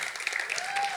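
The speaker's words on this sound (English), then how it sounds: "You got to clap too." Audience clapping at a community event, a brief burst of steady applause with a voice and cheering mixed in.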